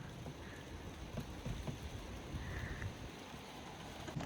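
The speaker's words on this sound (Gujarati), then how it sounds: "એટલામાં તો વરસાદ પણ આવી ગયો." Rain coming down outdoors in London: a faint, soft, even patter with a light wash of wind, steady throughout and heard from a distance, with no talking.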